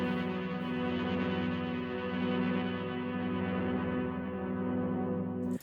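A distorted ring-modulated synth tone shaped by EQ with the deep lows cut and a low-pass filter, droning steadily and densely with a buzzing metallic texture for several seconds before cutting off abruptly.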